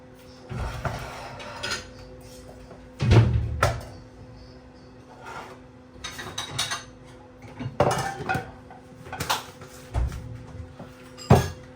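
Dishes, pots and utensils being washed by hand in a home kitchen, with irregular close clanks, clinks and knocks of metal vessels scattered throughout.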